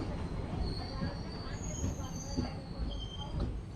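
An express train on the Kurnool to Guntur line slows near Panyam station, its wheels squealing thinly in long steady tones over a constant low rumble of carriages, loud and close from on board.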